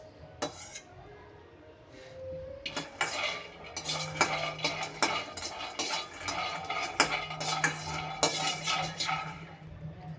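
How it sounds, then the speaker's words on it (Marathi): Peanuts roasting in a pan are stirred with a metal spoon, making a quiet, irregular run of scrapes, rattles and clinks against the pan over a faint background. "शेंगदाणे मी छान भाजून घेत आहे"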